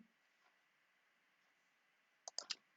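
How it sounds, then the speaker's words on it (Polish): Several mouse clicks in Microsoft Teams while downloading a meeting attendance list, a cluster of three or four quick, faint clicks near the end after near silence. "klikam sobie na ludzików, klikam sobie pobierz listę obecności"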